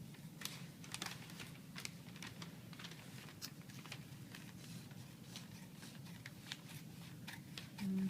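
Large scissors cutting through paper, a run of crisp snipping clicks at an uneven pace, close and fairly quiet, with no voices.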